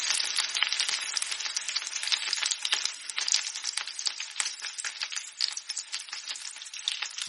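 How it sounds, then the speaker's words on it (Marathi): Pomfret fish frying in a pan over a medium gas flame, a steady close sizzle full of dense crackling pops and spits that carries on without a break, no voices. "साधारण 8 ते 10 मिनिटं मीडियम गॅसवर हे मासे फ्राय करून घ्यायचे आहेत"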